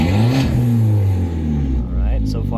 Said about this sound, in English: just give it some baby revs